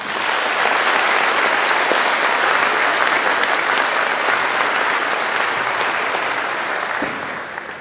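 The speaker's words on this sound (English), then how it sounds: "Let's give them one more round of applause." An indoor school assembly crowd gives a sustained round of clapping for a band and choir, dense and even throughout, tapering slightly at the end.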